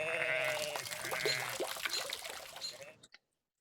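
Sheep bleat near a flowing pour of water as they are watered, a dense, steady wash of sound that cuts off abruptly near the end; a voice is faintly present.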